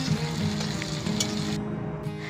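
Chopped onion, bay leaf, crushed garlic cloves and dried chillies fry in hot oil with a loud, steady sizzle and crackle, stirred now and then, with no voices.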